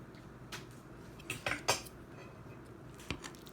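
A knife and utensils clink against a dish while an Impossible tomato pie is cut, a few sharp metallic taps clustered together, then a single later clink over quiet room tone.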